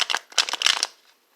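A small deck of playing cards is shuffled by hand in a few quick riffling bursts, close up, with crisp papery flutters that fade out.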